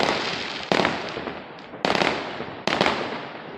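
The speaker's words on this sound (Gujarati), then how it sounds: "આણંદમાં ઠેર ઠેર બોમ્બ ભડાકા ફૂટી રહ્યા છે" Three loud, sharp firecracker blasts about a second apart, each followed by a crackling decay, close by with no talking, set off in Anand, Gujarat, celebrating India's T20 World Cup win.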